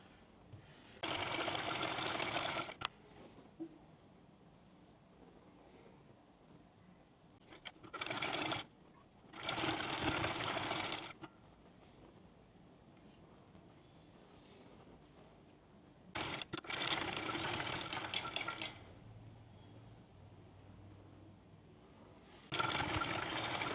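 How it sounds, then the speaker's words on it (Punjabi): Sewing machine stitching a shirt into a cloth bag, running in several distinct bursts of steady whirring separated by quiet pauses, close and clear with no talking. "ਹਾਂਜੀ ਮੈਂ ਆਲੇ ਦੁਆਲੇ ਸਿਉਣ ਮਾਰ ਲਈ ਚਾਰੇ ਪਾਸੇ"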